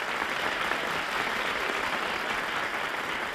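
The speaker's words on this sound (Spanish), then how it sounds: "Un aplauso para don Francisco." A television game-show studio audience claps in a continuous, even wash of applause, moderately quiet and unbroken for the whole stretch.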